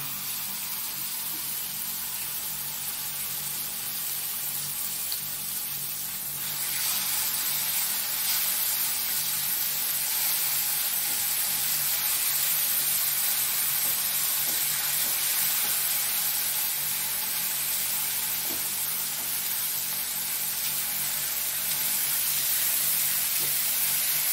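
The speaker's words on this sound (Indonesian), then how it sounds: "Ini sudah panas minyaknya, kita goreng." Beef ribs fry in hot oil in a pan, making a steady, dense sizzle that grows louder after a few seconds and then holds loud and even, with no talking.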